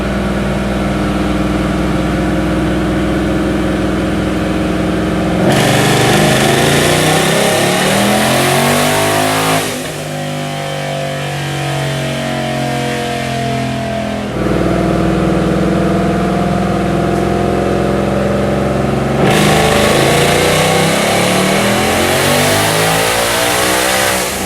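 A twin-turbo Mustang engine revs hard on a dyno in long, sustained pulls, loud and close, dropping and climbing again between runs, with no voices.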